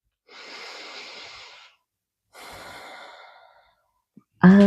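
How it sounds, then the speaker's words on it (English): A deep breath during a yoga session: a long, airy inhale followed after a pause by a slow exhale, both close and soft, with a brief louder sound at the very end and no talk. "Take a deep breath."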